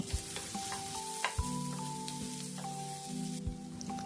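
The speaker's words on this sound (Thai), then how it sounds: "หลังจากนั้นเราจะใส่มันฝรั่งลงมาผัดค่ะ ผัดให้ทั่วกับเครื่องที่เราผัดมาก่อนหน้านี้" Potatoes are stir-fried with spices and bay leaves in a pan, a constant sizzle with a few sharp spatula knocks against the pan and a faint tonal hum underneath.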